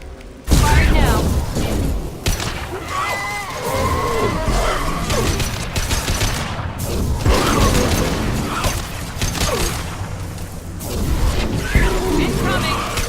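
Weapons firing in the Mass Effect 2 video game, loud booming and crashing bursts with mechanical clatter, mixed with music and scattered voices.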